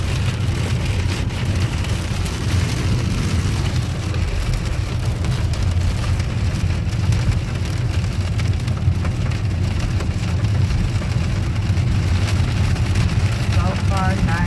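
Rain falls steadily in a thunderstorm, a dense continuous patter on surfaces close by, with people talking over it throughout.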